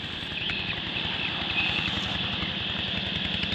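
An old motorbike engine runs with a steady low, rapid chugging pulse, a continuous idling rhythm close by with no talking.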